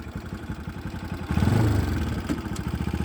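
A motorcycle idles while being parked at the Jiadhal hill picnic spot, its engine chugging in a steady close pulse that swells briefly louder midway before settling back to idle, with no talking.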